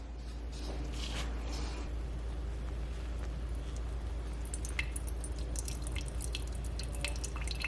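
Hot water is poured over coffee grounds in a pour-over filter, a continuous soft trickling and dripping with faint crackles, steady and close throughout.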